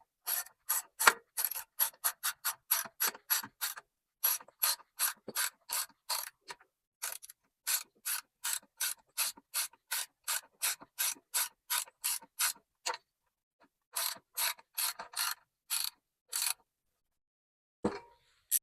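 Rapid ratcheting clicks from a wrench turning a 7/16 bolt on a lawn mower, close and crisp, in long bursts of quick clicks broken by short pauses, with no talk.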